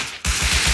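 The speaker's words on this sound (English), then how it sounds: "Is that you guys shooting up front?" Rapid automatic gunfire in the survival game Rust erupts after a short pause, a loud, close burst of evenly spaced shots.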